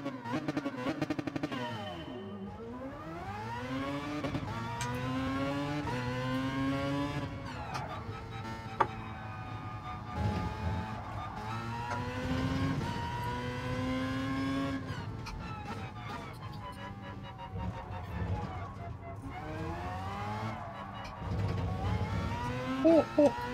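A race car's engine whines in GT Sport on the Nürburgring, with high pitch sweeping up and down through repeated gear changes and some tire squeal, loud and continuous throughout.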